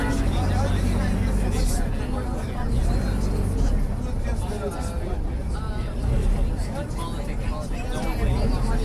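Busy road traffic in Egypt, with cars and buses driving close together under a steady crowd murmur and voices, a dense continuous wash of engine noise throughout.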